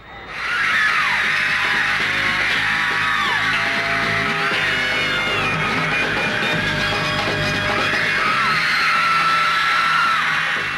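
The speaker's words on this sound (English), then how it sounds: "more screaming fans than the airport had ever seen before" Thousands of screaming Beatles fans at JFK Airport create a dense, continuous roar of shrieks, yells and whoops, loud and unbroken throughout with piercing high voices rising above the crowd.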